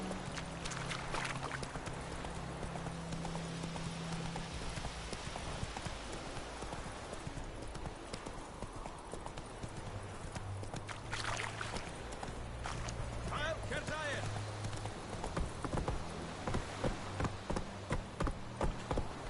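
Roach, Geralt's horse in The Witcher 3, gallops with rapid, steady hoof clip-clops on the ground, moderately close. A low hum runs underneath, and a few quiet voices come in briefly.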